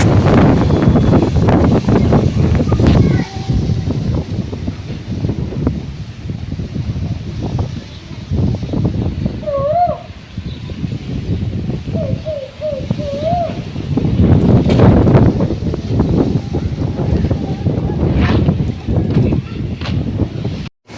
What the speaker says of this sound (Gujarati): તો જોઈ શકો છો પવન સાથે ફૂલ પવન આવી રહ્યો છે.